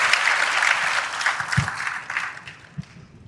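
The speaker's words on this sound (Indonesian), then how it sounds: "Tepuk tangan dulu buat saya yang tadi sudah terlibat memberikan jawaban." A hall of youth student council leaders from across Jakarta breaks into applause, a bright wash of many hands that begins full and then thins and fades, leaving a few last claps near the end.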